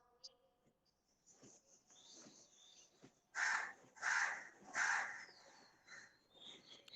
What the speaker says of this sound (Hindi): कौए की आवाज इतनी बढ़िया आ रही है।